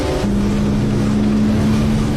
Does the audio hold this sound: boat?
yes